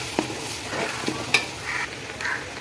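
Home-grown curry leaves frying in hot oil for chicken pickle, with soft crackling sizzle, a few sharper pops and the scrape of stirring close by, no voices.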